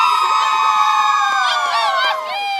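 A group of St. Mary's fans shouts and whoops together at a football game, high excited voices rising and falling in loud, overlapping cheers close by.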